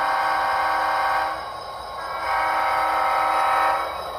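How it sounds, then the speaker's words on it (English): A steady two-tone model railway diesel locomotive horn sounds in two long blasts with a brief dip between them, loud and close, with no talking. "All right, here is the horn."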